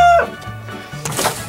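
Chicken clucking at a home garden during a garlic harvest, with short fowl calls rising over a busy outdoor background and a louder burst near the end.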